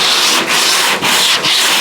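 Rough, rhythmic scuffing of primer on a 1970 El Camino tailgate panel: three back-and-forth abrasive strokes, close and fairly loud, each separated by a brief dip.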